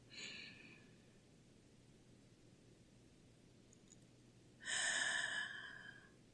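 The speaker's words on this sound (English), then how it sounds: "Breathe in again." A person draws in deep breaths through the nose and mouth: a short inhale at the start, then a longer, louder airy intake a few seconds later, close to the listener with quiet room hiss between.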